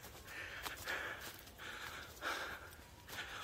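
Heavy panting of a man near fifty, out of breath while hiking up Bongjesan hill in Gangseo-gu, Seoul, with quick repeated breaths, close and faint, no talk.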